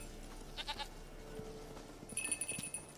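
A goat in The Witcher 3 lets out a few quiet, short bleats, with a faint bell-like ringing tone near the end.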